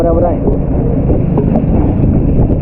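Strong, unusually fierce wind roars continuously and loudly, buffeting the microphone with dense rumbling gusts, while a voice is partly buried beneath it.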